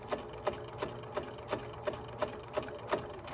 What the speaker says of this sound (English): We're just sewing in a straight line all the way down.